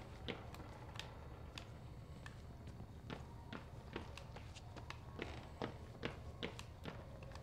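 Footsteps in the horror video game Outlast, a steady run of soft, evenly spaced thuds and taps over a constant low rumble of ambience, moderately close and fairly quiet.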